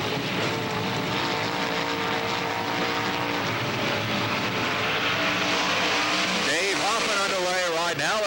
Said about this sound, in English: Right now in car number 34 as Mason comes by for his second lap time.